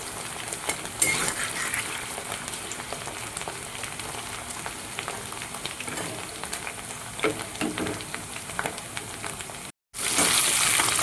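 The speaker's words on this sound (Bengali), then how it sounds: "এই যে আলুকে আমি আগে অল্প ফ্রাই করে নেব" Potatoes sizzle and crackle as they fry in a pan for a home lunch, a steady close hiss with small pops and stirring scrapes, no talk, ending after a brief cut in a louder burst of frying.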